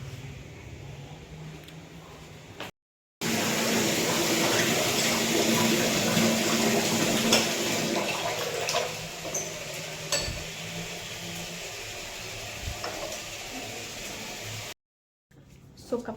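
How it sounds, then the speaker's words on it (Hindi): A washing machine washing clothes indoors gives a steady broadband churning and water rush for most of the stretch, fairly loud and close, broken by two brief cuts, with faint voices in the background. "सो कपड़े धुल रहे हैं अभी वॉशिंग मशीन में।"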